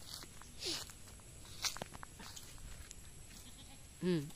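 A goat bleats among farm animals beside a mango tree, with a brief bleat early, another sharp wavering bleat near the end, and faint rustling and footsteps between them, all quiet and a little distant.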